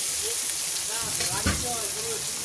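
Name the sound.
ginger and tomato frying in oil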